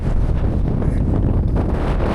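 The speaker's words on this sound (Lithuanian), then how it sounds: "Eina savo vėjas." Strong wind blows across a mountain peak, a dense, constant rumble pressing against the microphone without pause.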